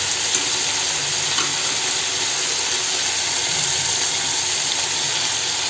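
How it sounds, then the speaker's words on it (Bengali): White mustard water, strained, being poured into a pan of fried spice masala for a bata fish curry; a steady broadband rush of pouring liquid with light sizzling runs throughout, fairly loud and without talk. "সেই জলটা আমি দিয়ে দিচ্ছি"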